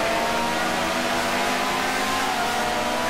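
A 1960s Grand Prix racing car engine in Grand Prix Legends, driven at the 1965 Italian Grand Prix, revs hard and steadily at close range, a loud continuous mechanical roar with rising harmonics and no talk.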